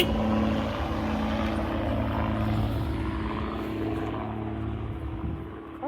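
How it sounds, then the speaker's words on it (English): A car passing along a forest road, a steady broad engine and tyre rumble that holds for several seconds and slowly fades, heard outdoors from the roadside with no one talking. "Car just went by."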